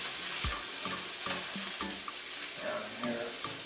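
Red pepper and onion cook in olive oil in a pan with a constant sizzle. A utensil scrapes and stirs in a run of sharp strokes at an uneven rhythm, and the whole sound stays close.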